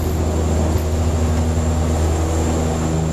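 Dash 8 turboprop airliner engines during takeoff, a steady loud droning hum with propeller tones, heard continuously from inside the cockpit with no talk.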